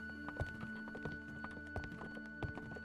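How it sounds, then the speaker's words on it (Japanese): Rhythmic footstep sounds from the video game Kamaitachi no Yoru 2, a series of distinct thumping steps at a steady pace over a low ambient game backdrop with a sustained tone, heard alone without talk. "足音しか聞こえない。"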